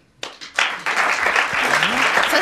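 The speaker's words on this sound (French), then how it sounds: "On va vous applaudir." A studio audience on a 1991 French television show bursts into applause after a few opening claps, then keeps up a loud, sustained clapping with a voice heard briefly through it.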